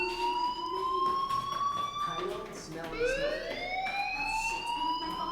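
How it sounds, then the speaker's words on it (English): A fire alarm wails inside the video game Life is Strange, a loud electronic siren sweeping its pitch up and down in repeating cycles. It rises again after a brief dip, with a voice speaking underneath. "do you hear that fire alarm?"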